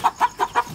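Farm chicken clucking close by, with five short, evenly paced clucks in quick succession and no talk over them.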